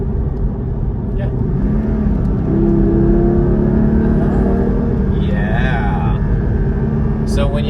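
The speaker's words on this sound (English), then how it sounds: "that's one of the things about a non-turbocharged engine. You've got all this room to play with the revs." A Porsche 718 Cayman GT4 with its naturally aspirated engine revs up inside the cabin, a steady droning rise in pitch held loud and close under the car's road noise.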